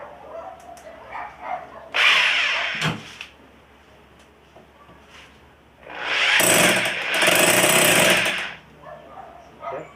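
DEVON SDS rotary hammer drill running in hammer mode, two loud bursts of rapid, gritty hammering, one about a second long and a longer one of roughly three seconds, close up, with quiet room noise and small knocks in between.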